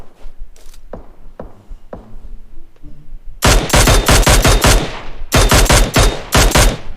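PUBG Mobile gunfire: a few scattered single shots, then loud sustained bursts of rapid automatic fire in two long strings, close and dominant with no voices.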